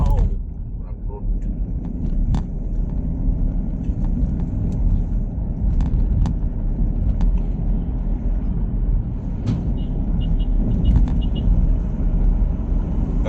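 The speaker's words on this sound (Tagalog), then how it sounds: "Oh, wow, rough road." A van's engine and road rumble fill the cabin steadily while driving over a rough road, with occasional knocks and rattles, and people talk throughout.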